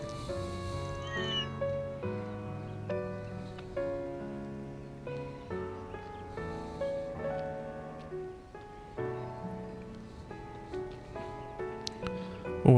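A cat meows repeatedly in the video game Trails through Daybreak, short mews repeating over a soft, gentle musical backdrop with light rain-like patter, moderately quiet and without speech.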